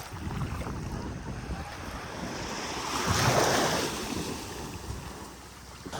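Ocean surf at Siargao in the Philippines washes in a continuous broad roar, swelling as a wave breaks and then easing, with wind buffeting the microphone.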